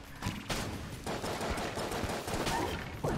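Dense, continuous video-game gunfire from an oversized 9mm bullet weapon in Enter The Gungeon, rapid overlapping shots forming a steady loud barrage for the whole stretch.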